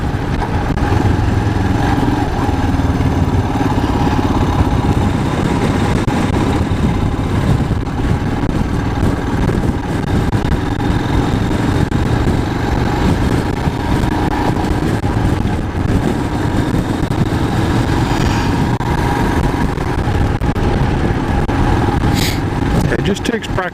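Royal Enfield Himalayan motorcycle engine running steadily while riding, a continuous loud low drone with wind rush, close and unbroken throughout.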